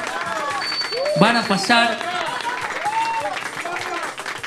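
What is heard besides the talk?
audience applause for contestants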